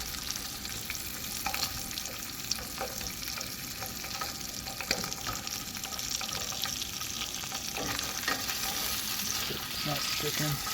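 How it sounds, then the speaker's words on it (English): Onions fry in a pan over a wilderness campfire, a steady close sizzle with occasional scraping and clinking as they are stirred. "Stir these onions around a little bit."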